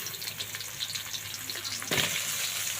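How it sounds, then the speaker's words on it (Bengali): Onions frying in a pan until crisp and golden for a roast dish, a steady broadband sizzle throughout, close and moderately loud, with a slight rise near the end, no talk. "এরপর হচ্ছে আমি পেঁয়াজ বেরেস্তা করে নিব।"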